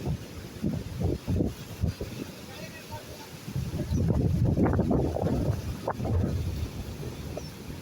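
Water rushing fast through a breach in a village pond embankment, a steady broadband roar that swells louder and fuller midway, with voices talking over it early on.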